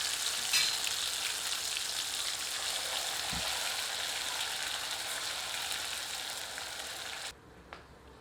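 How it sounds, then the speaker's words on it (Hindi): Malvani masala fries in hot oil with a bay leaf as the base for a crab curry, making a steady, fairly quiet sizzle that cuts off abruptly near the end. "अब तेल में मालवड़ी मसाला सम्मिलित करते हैं।"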